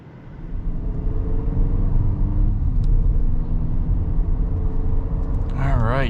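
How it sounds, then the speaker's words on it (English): A 2024 Chevy Silverado 1500 Custom with the Turbo Max four-cylinder rumbles as it pulls away and accelerates, a steady low engine roar from inside the cab under a driver's talk. "taking off in the Silverado 1500 Custom with the Turbo Max engine"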